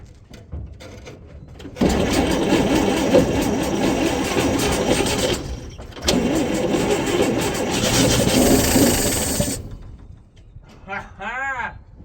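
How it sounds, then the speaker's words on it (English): 1958 Chevrolet Apache truck engine cranking on starter fluid, a loud rough churning burst, a brief break, then another sustained run before cutting off, with voices and a short whoop at the end. "It fired up"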